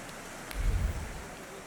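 Steady rain hisses in the rainy city streets of the video game The Thaumaturge, and a low rumble of thunder swells briefly and then fades under the constant downpour.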